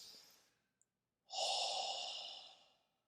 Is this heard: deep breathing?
yes